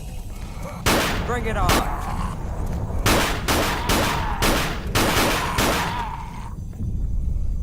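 Rapid gunfire from Black Mesa Source, a Half-Life remake: loud, sharp shots in short bursts and clustered volleys, mixed with a voice talking over the battle.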